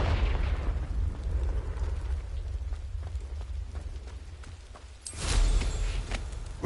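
A Confringo fire spell explodes in the Hogwarts Legacy video game, a sudden deep blast bursting in after a stretch of low rumbling battle ambience and ringing out loudly.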